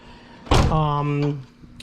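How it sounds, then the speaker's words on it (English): A car door on a project car opens with a clunk, followed by a loud creaking, squealing hinge. "That way I don't have to open Zach's door like this anymore."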